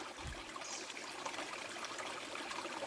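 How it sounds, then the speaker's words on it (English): A freshwater stream in January flows at a healthy rate, a soft, steady trickling wash that stays constant and fairly quiet throughout with a faint low thump near the start. "Nice fresh water, healthy flow in January."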